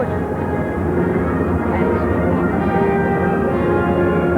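Military aircraft passing low overhead at a national anniversary air display, a loud continuous roar with steady rumbling low tones and some faint crowd or commentary underneath.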